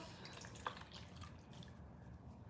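Cloth rinsed under warm running tap water at a sink, a faint, close trickle with small drips and splashes and no talking.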